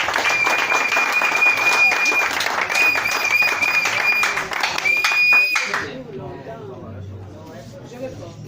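A crowd at a neighbourhood referendum awareness gathering in Awoungou applauds the neighbourhood chief, loud sustained clapping for about six seconds that cuts off abruptly, leaving quieter talk and room noise.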